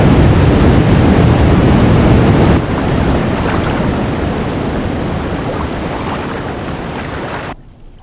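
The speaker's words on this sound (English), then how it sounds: "These falls hold no records for height or volume, but for sheer violence" Violent rushing water at African river falls, a loud broadband roar that holds steady throughout, easing slightly partway through and dropping off near the end, with no voices over it.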